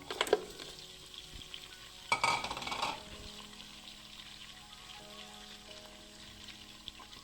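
Mutton for a qorma is stirred and fried in a pot: a quiet background sizzle broken by a short scrape early on and a louder burst of stirring around the middle, with no talking.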